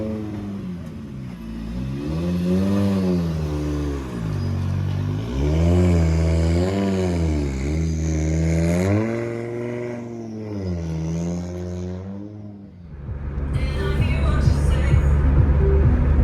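Rally cars racing along a rally stage in a village, engines rising and falling in repeated revving sweeps, fairly close and loud, with a rougher burst of engine noise near the end.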